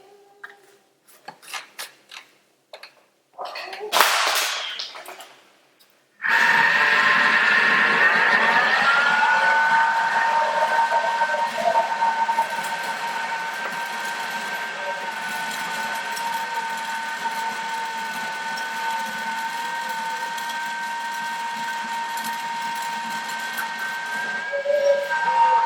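A Thermomix whirs steadily as it mixes semolina cake batter, a sustained motor tone with a high whine running for about twenty seconds after a few brief knocks and handling sounds.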